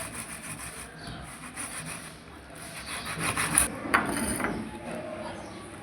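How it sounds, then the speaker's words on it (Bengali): An aloe vera leaf is scraped against a kitchen grater to pull out its gel for a hair-care mix, producing a steady close rasping rub that grows louder toward the end. "এটাকে আমি গ্রেটারের সাহায্যে এবারে জেলটা আমি বার করে নিচ্ছি। এইভাবে ঘষে ঘষে বার করে নিতে হবে।"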